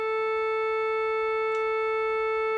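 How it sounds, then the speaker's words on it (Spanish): A steady 440 Hz A tuning reference tone, as given by an oboe or concertmaster violin to tune an orchestra, holds unbroken and even for the whole span, clear and alone with no talk. "el oboe o el concertino de violín nos va a dar el La para afinar a 440 hercios"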